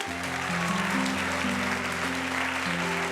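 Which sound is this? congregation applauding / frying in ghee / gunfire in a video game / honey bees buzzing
congregation applauding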